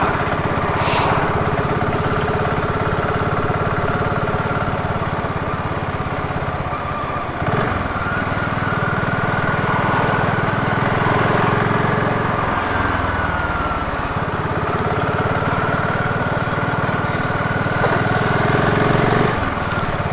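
Steady buzzing engine note of a BSA Goldstar 650 single-cylinder motorcycle heard while riding, with wind rush and brief dips and swells in revs across the stretch.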